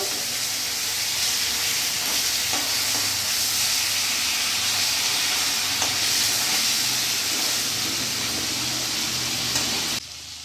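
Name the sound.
fish frying in oil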